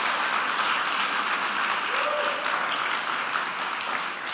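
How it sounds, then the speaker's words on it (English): An audience gives a round of applause for the AV team at a Mother's Day 2023 event, with dense, even clapping that holds steady for the whole stretch. "Can we give them a round of applause?"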